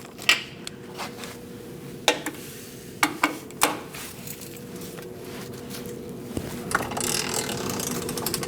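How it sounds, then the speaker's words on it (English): Torque wrench ratcheting as nuts are tightened on a 2000-2006 Mini Cooper front bumper impact absorber: sharp metallic ratchet clicks in short bursts, fairly close, with a steady background hum and no talk. "go around and torque these nuts to 33 foot-pounds."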